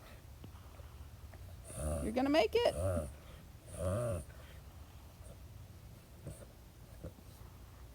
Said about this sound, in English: You can hear my dog reverse sneezing down there.